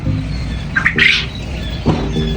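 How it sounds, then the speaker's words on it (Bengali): Egg-laying birds in a breeding room give a few brief, loud squawks and chirps over a low background hum, close by and without talking. "এই যে ডিম দেওয়া পাখি এই যে এই ঘরে আসেন সার্লি"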